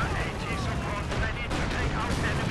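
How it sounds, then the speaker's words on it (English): A light artillery barrage in Company of Heroes 2 rumbles as dense, continuous booms and blasts layered over steady battlefield noise, loud and unbroken throughout. "Someone called like a light artillery barrage or something on these guys"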